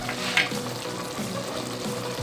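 Ginger, tomatoes and green chilies frying in ghee for Khatti Murghi, a steady close sizzle with occasional stirring scrapes throughout, no voices.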